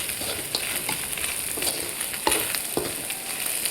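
Fish sizzling as it fries in a pan, a steady dense crackle of hot oil with scattered sharper pops, close and moderately quiet with no talking.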